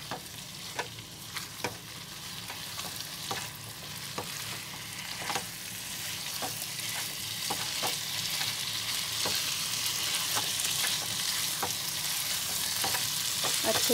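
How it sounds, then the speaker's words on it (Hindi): Pointed gourd and nutri nuggets stirred and fried in a pan for a Bengali-style potato and pointed gourd curry, a steady sizzle that swells louder over time, punctuated by regular scraping strokes of the spoon, close. "इसी में ये परवल और ये न्यूट्री नगेट इसको डाल देंगे, मिक्स कर देंगे इसको।"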